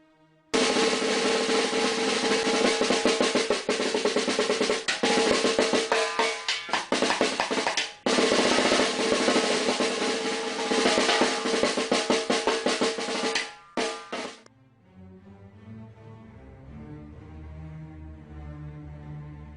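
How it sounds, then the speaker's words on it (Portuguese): A snare drum played as a sustained roll, a bright, dense rattle held steadily for about thirteen seconds with brief dips, then stopping and giving way to soft, low sustained pitched tones. "Caixa."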